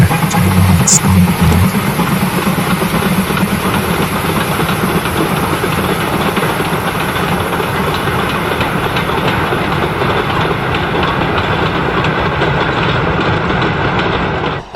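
Two Standard Class 4 steam locomotives haul a train on a 1960s Lancaster and Preston railway line, a steady loud rumble and rhythmic clatter of wheels rolling continuously close by.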